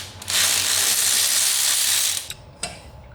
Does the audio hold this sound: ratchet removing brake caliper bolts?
yes